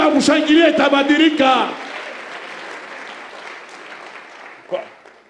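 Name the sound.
congregation applauding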